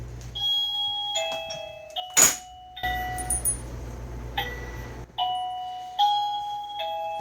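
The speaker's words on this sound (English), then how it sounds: "I'll hit this doorbell so you can hear it" An RV doorbell chimes several times in a melodic ding-dong pattern, clear and close, with a brief burst of noise early on.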